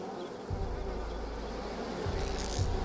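A swarm of bees in the video game A Plague Tale: Requiem, a dense, continuous droning buzz that stays close throughout and swells a little near the end.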